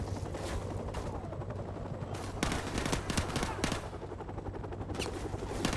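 Live-ammunition gunfire in Call of Duty 4: Modern Warfare Remastered, with continuous automatic bursts and scattered sharp shots rattling back and forth at close to middle range over a steady mechanical background drone.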